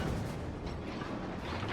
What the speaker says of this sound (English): both cannons are operational again